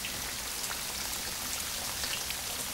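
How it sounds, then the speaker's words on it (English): Steady rain falls in a period drama scene, a soft, even patter and hiss with no voices. "What, in this rain?"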